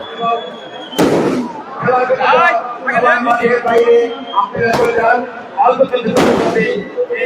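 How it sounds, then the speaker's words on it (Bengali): Firecrackers go off at a village football tournament final, loud sharp bangs at intervals, echoing across the ground beneath an excited commentator's steady talk. "ফটকা কিন্তু ফুটে গেল, বাজি ফুটে গেল।"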